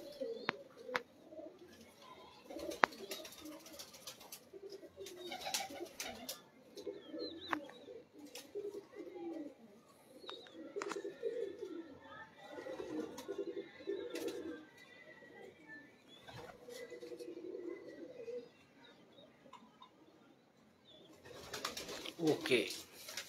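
Pigeons of a prized breed coo in repeated soft, low throbbing phrases at close range, with occasional wing flutters and clatter, continuing steadily throughout.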